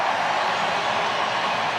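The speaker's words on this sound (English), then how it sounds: "Well, you just hear the noise, the relief for the crowd." Stadium crowd at a Wales versus South Africa rugby match roaring in relief after a try, a dense, continuous wash of voices with no pauses, loud and unbroken throughout.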